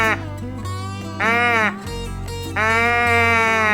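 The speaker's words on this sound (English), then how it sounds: "You can make it louder." Squeezin' Bleat bellows deer call squeezed harder for louder bleats, two strong drawn-out nasal bleats separated by a brief lull, close and prominent without speech.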